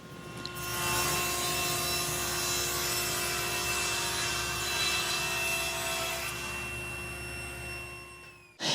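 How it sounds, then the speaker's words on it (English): A table saw slicing walnut plywood for shelves, the blade whining steadily through a sustained cut of several seconds, loud and close, then spinning down and ending with a brief knock at the finish. "she got the opportunity to use the table saw again to cut some of the final shelves"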